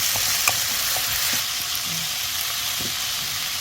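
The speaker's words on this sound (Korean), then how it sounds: "무에서 이제 물이 나오기 때문에 타지 않고 잘 볶아지네요." Radish stir-fries in a hot pan with a continuous close sizzle and hiss, broken by a few soft scrapes and clicks of stirring.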